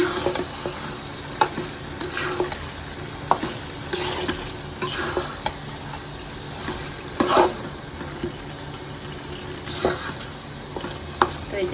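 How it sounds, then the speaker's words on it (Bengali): Buffalo meat frying in a pan gives a steady sizzle, with intermittent scraping stirs of a spatula spread across the stretch, close and moderate in level, with no one speaking. "মাংসটা নেড়ে দিচ্ছি নেড়ে ভালোভাবে ডেকে কষায় নেবো এখন"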